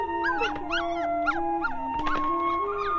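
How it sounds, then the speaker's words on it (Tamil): A puppy whimpers and yips in a rising and falling series of high, whiny cries, close and fairly loud over a faint steady background tone, with no talking. "நாய்க்குட்டினா ரொம்ப பிடிக்கும்ல, அதான் வாங்கிட்டு வந்தேன்."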